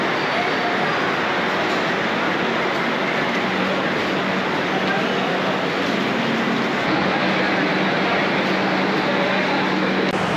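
Kanchankanya Express running between Sealdah and Alipurduar, heard as a continuous loud broadband roar of rolling wheels and rushing air from inside the moving train, steady throughout with no talk.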